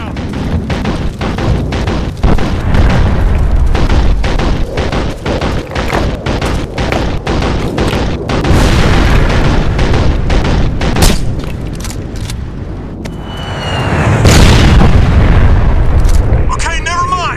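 An AA gun is blown up in Sniper Ghost Warrior 2 amid rapid booming bursts and rumbling blasts, ending in a large swelling explosion; a voice talks over parts of the noise.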